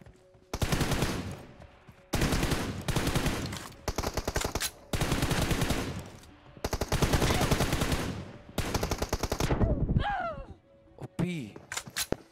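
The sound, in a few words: gunfire in a mobile shooter video game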